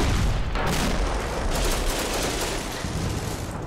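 Dense, continuous gunfire and explosions from the WWII video game Combat Mission Final Blitzkrieg, a loud sustained barrage of overlapping shots and booms with no pauses, alone without talk.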